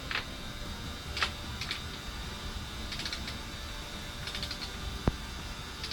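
Torque wrench set to 55 foot-pounds tightening the swing arm pivot bolt nut on a Suzuki DR-Z motorcycle, faint ratcheting clicks and creaks in scattered clusters over a quiet workshop hum, ending with one sharp click.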